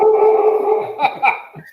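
A dog howls in a long sustained tone that breaks into a few shorter yelping notes near the end, close and fairly loud, with no talk over it.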